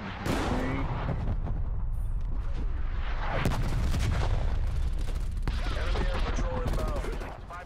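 An artillery strike in Call of Duty: Black Ops Cold War on the Nuketown map, with dense overlapping explosions and gunfire rumbling loudly throughout and faint chatter underneath.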